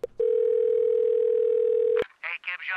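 A steady telephone dial tone rings out alone for nearly two seconds before cutting off, opening a phone call recording, and then voices begin talking.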